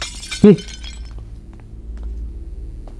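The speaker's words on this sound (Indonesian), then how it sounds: "ada kaca pecah, cuy" Glass shatters in a brief loud crash early on in the horror game Paranormal Territory 2, followed by quiet ambient hum and faint scattered ticks, with a short exclaimed syllable at the start.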